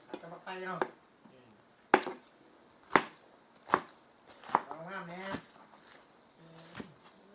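A knife chops chili leaves for a Thai spicy stir-fried eel, with about half a dozen sharp, separate strikes on a board spaced a second or so apart. People chat in Thai around the cuts.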